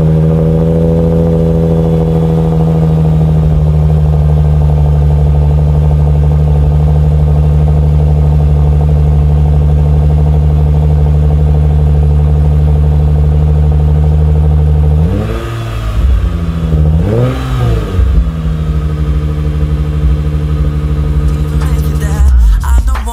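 Lexus RC with an Invidia midpipe cat delete, idling loud and steady with a deep exhaust drone, then two sharp revs blip up and settle back to idle.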